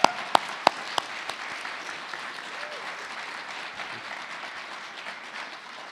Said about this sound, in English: I believe it deserves another round of applause.